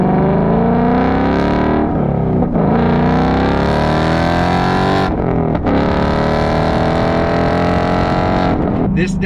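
A 2021 Ford Mustang Mach 1 pulling hard through the gears, a loud, close engine note rising steadily in pitch, with brief drops at each gear change before climbing again.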